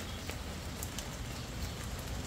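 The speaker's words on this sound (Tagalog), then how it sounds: "It's raining" Steady light rain patters on surfaces on a gloomy morning in Imus, Cavite, a soft, even hiss with scattered drops and no voices.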